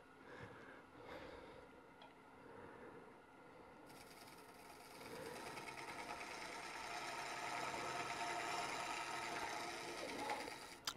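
A round nose scraper cuts the inside of a spinning segmented wood bowl on a lathe, a faint continuous whirring scrape that grows fuller and rougher partway through, with no talk.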